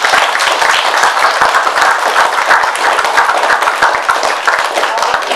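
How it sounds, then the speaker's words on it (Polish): Audience applause at a 2019 film workshop event: dense, steady hand clapping heard up close and loud, continuing without a break for several seconds with no talking over it. "duże brawa dla niego."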